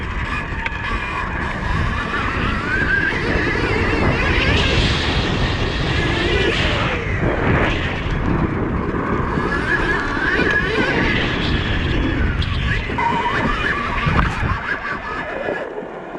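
Stark Varg electric dirt bike ridden off-road, a whining motor with tires spinning and throwing roost, gritty spraying bursts rising and falling over steady wind rumble, continuous for the whole stretch.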